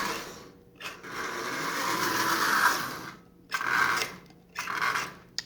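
A Marx 994 toy locomotive's double-reduction motor whirs in bursts, its sticking E unit making it start and stop several times with brief silent gaps between runs, close and fairly loud.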